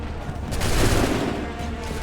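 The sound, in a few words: musket volley fired by soldiers in Assassin's Creed 3 video game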